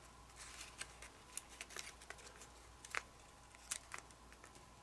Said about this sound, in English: now fold this flap out to this side and like that